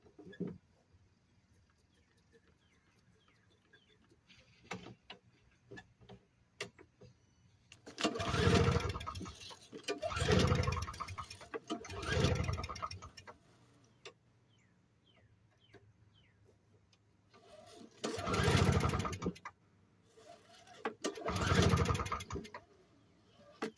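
A snow blower engine that won't start is cranked in two rounds of labored, churning bursts lasting a few seconds each, with quiet pauses between and no sign of the engine catching.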